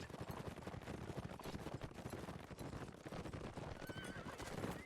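A horse in a multiplayer video game match neighs over rapid galloping hoofbeats, loud and busy, with sharp combat bangs and clatter mixed in throughout.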